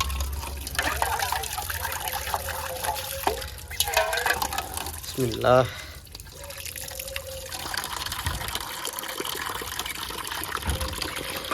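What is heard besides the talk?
clean water poured into a container for pigeons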